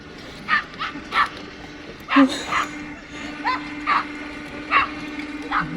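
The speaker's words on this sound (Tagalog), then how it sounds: "may aso po" A dog barks and yips repeatedly in short, high bursts at moderate distance, over a steady boat engine hum on Lake Lohja, Finland.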